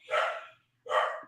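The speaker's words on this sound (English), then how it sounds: "Oh, excuse my dog." A pet dog gives two sharp barks close by, one right after the other with a short pause between, loud and alone, during a morning live trivia show.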